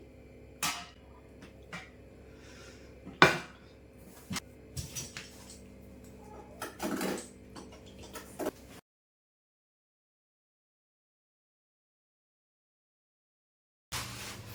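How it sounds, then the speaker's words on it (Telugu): An iron wok being picked up and handled in a home kitchen, giving scattered metallic clinks and knocks over about nine seconds, then a long silence and one final clank near the end. "ఇదిగోండి ఐరన్ వాక్ తీసుకున్నాను అనమాట."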